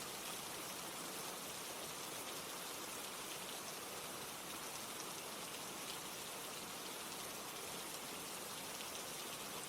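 Steady rain falls during a stormy night, a dense, continuous hiss of drops hitting surfaces with no break, even and moderately quiet throughout.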